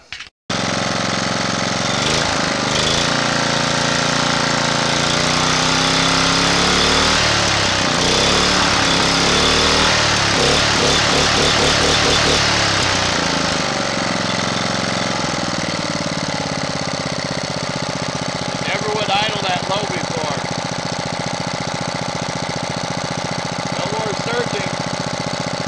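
A Honda GX240 small engine runs unloaded with a steady, loud drone that rises and falls as it surges, alone without talk.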